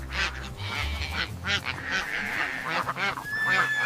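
Honking, quacking waterfowl calls come in quick, overlapping bursts over a low rumble. The calls are steady and fairly close, with no voices.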